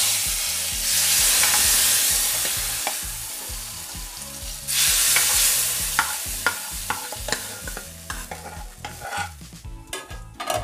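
A hot tempering is poured into a jackfruit-seed, prawn and dried-fish curry, bursting into two loud sizzling surges followed by repeated clinks and scrapes of stirring in the pot.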